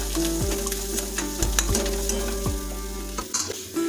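Cumin and coriander powder sizzle in oil in a frying pan while a spatula stirs them, with about five sharp scraping strokes over a steady close hiss and no voices.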